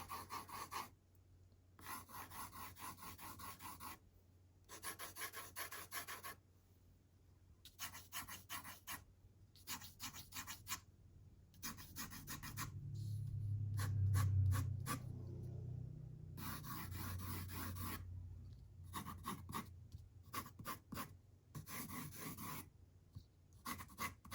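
A pencil scratches parallel lines across paper in quick bursts of rasping strokes separated by short pauses, close and fairly quiet, with no one speaking.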